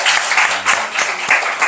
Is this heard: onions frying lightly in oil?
no